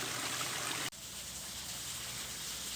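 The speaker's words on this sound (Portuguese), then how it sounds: "É uma cachoeira bem grande." A large waterfall roars as a steady, broadband rush of falling water, loud and continuous, briefly cut by a single abrupt dip partway through, with no talking.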